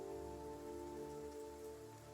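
Rain falling steadily over the fantasy city of Alniel, a soft continuous patter layered over a low sustained musical hum, with no voices.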